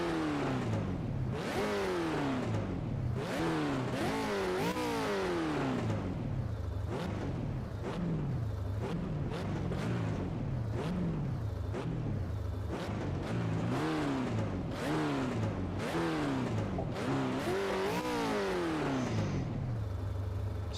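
A race car engine in a racing video game revs over and over in a rhythmic pattern, each loud rev sweeping up then falling away, repeated steadily like a deliberate tune, close and alone without talk.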